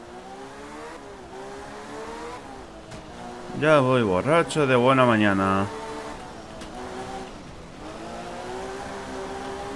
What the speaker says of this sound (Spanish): El sonido también se escucha como más el motor, creo. Ruge más el coche.